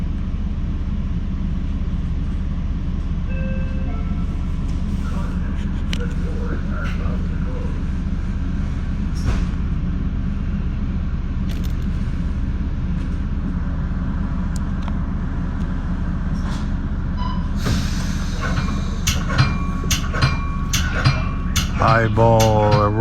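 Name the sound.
Metra train pushed by EMD F40PH locomotive passing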